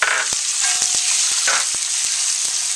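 Pork, shrimp, carrots and mushrooms stir-frying for ramen give a steady, close hiss of sizzling, broken by sharp clacks of a utensil against the pan at irregular intervals.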